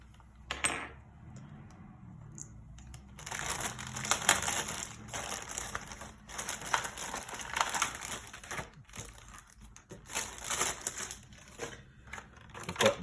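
Plastic packaging being torn and opened by hand to get at a gloss black plastic rear inner waistband part and screws for a Fanhome Robocop model kit, with crinkling and crackling that is steady and close.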